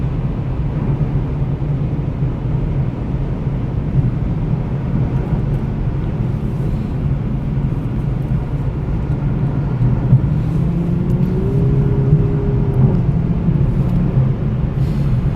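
A 2019 Lexus LC500h hybrid driving on the road, heard from inside as a steady, loud low rumble of road and wind noise throughout, with no talking.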